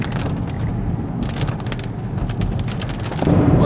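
Rain falls steadily on a car during a trip to a grandmother's house, a dense continuous wash with low road rumble underneath, growing a little louder near the end.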